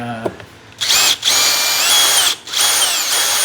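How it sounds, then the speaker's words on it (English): A power drill whines loudly in two sustained bursts with a brief pause between, close up, after a short click at the start, drilling push pin holes for fender flares on a Can-Am Maverick. "take our drill bit and"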